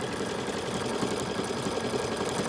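A BERNINA jumbo bobbin sewing machine runs in reverse, backstitching over a previous seam with a steady, continuous mechanical whir held at an even level throughout.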